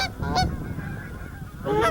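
A flock of geese honking overhead during a hunt, with repeated calls clustered near the start and again at the end over a steady background wash.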